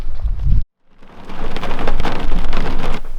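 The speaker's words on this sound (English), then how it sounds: "it's been raining like since about 2 in the morning." Steady heavy rain and thunderstorm noise in a fog-socked Arizona canyon at dawn, a dense continuous wash of rainfall with deep rumbling underneath, briefly cut to silence near the start before building back up loud and sustained.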